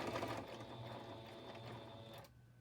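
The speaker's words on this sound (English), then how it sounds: "So, now I'm going to back stitch over that elastic" Sewing machine back stitching over elastic on a fabric headband, a steady close mechanical whir running continuously before stopping abruptly near the end.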